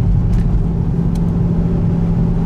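A Mercedes-AMG C63 engine with a raspy note, heard as a steady loud low rumble from a car under throttle, droning continuously without clear rises or breaks.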